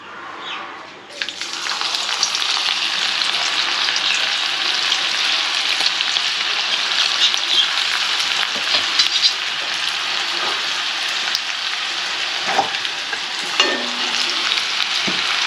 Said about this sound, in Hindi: तेल बिल्कुल गर्म हो चुका है, धुआं निकल रहा है। और पूरा हाई फ्लेम में इसको क्या करेंगे, फ्राई करेंगे